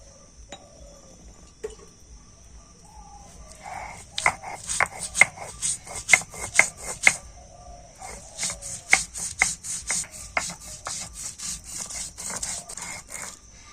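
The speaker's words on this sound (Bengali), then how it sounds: "আর এবার আমি এই সিলে কয়েকটা মশলা বেটে নেব" Poppy seeds, cashews and a little ginger are ground by hand on a stone slab, giving a rhythmic scraping and rubbing that turns into a run of quick, sharp strokes close to the listener, with no talking.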